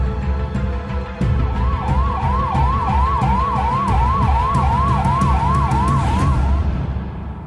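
An ambulance siren wailing in a rapid, steady up-and-down cycle, fairly loud and continuous over traffic rumble, with no talking.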